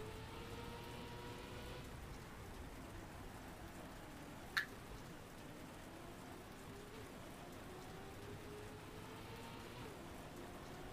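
Steady rain falling in the racing game Trackmania, a continuous soft hiss of drops held at an even level throughout, with one brief sharp tick near the middle.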